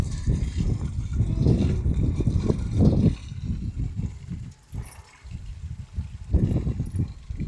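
Water streams steadily from a hose pipe into a metal kalshi pot during preparation for coming rain, a continuous close splashing and gurgling rush with small shifts in flow and no talk.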